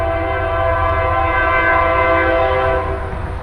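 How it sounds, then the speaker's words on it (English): A freight train passes on the tracks at Leighton, Alabama, with a loud sustained horn blast that holds for about three seconds under a low rumble of rolling cars, then eases off. "there's a train coming right here at the track"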